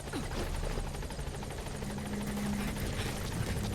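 Support helicopter arriving at a landing zone in the Metal Gear Solid V video game: steady, close rotor chop and engine drone throughout, with no talk.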